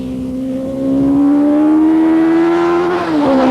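Rocket kit car engine with racing seat and right-hand gear change, revving hard toward 12,000 rpm: a loud, close, rising engine whine that climbs steadily, then drops briefly near the end before picking up again.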